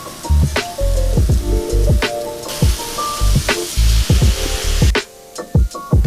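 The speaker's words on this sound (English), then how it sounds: "Start off by searing 2 pounds of ground beef in a cast iron over high heat" Ground beef patties sear in a cast iron pan over high heat, a steady close sizzle broken by scattered sharp pops and clinks, with no talking.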